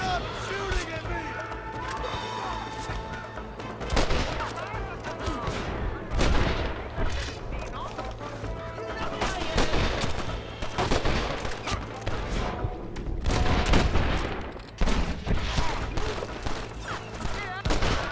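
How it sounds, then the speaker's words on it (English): Gunfire in the Western video game Red Dead Redemption: dense, overlapping volleys of shots and booms run continuously and loud throughout, mixed with game music and voices. "Stop shooting at me!"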